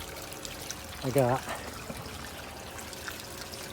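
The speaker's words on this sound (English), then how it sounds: "So, got my cleanup sluice rocking here." Water trickles and pours steadily through a gold cleanup sluice carrying black sand concentrates, a constant close wash beneath a brief spoken phrase.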